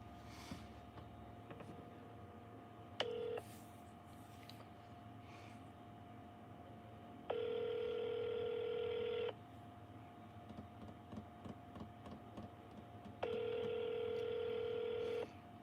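Telephone tones from a call placed by a voice assistant sound faintly in a quiet room: a brief beep, then two steady tones of about two seconds each, separated by a pause.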